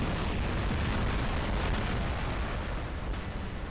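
Aphid missiles in the War Robots video game fire in a volley and detonate, a dense, continuous roar of blasts and rumbling booms that stays loud and steady throughout.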